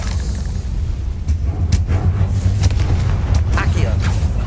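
A Confringo fire-blast spell explodes in Hogwarts Legacy, a loud booming blast over a constant low rumble with sharp bursts and crackles, while a voice talks.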